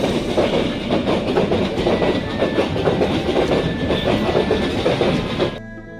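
A train rolls past a road crossing in rural northern Bangladesh near the Teesta bridge, close and loud, its wheels beating a steady clickety-clack rhythm until the sound drops away abruptly at the end.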